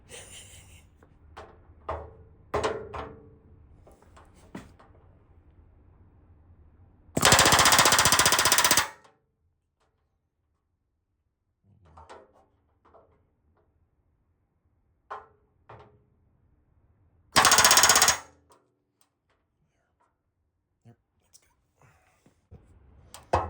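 Riveting an aircraft-style panel with a rivet gun and bucking bar: two loud, sustained bursts of rapid hammering, each lasting one to two seconds, separated by quiet handling noises and soft low talk.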